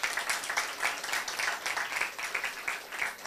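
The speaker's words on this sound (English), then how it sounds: "can I have a big round of applause" A lecture audience claps in a steady, close burst of applause after a session, a dense patter of many hands lasting a few seconds with no voices over it.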